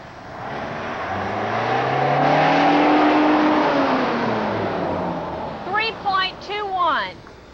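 A car engine rises smoothly in pitch as it accelerates, close and steady, then a few short revving bursts follow near the end, with no talk over it.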